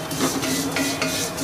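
Flattened rice (aval, poha) being dry-roasted in a hot pan, giving a steady close crackle and scrape of flakes stirred against the metal, continuous with no talk.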